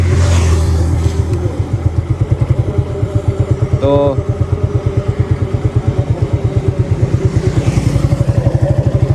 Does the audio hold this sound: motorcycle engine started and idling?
yes